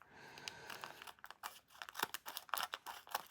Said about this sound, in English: We'll open it with scissors.